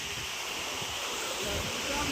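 Rainwater rushes into a farm pond on a village farm at Bavla, a steady, dense, close roar of flowing water with no break and no voices.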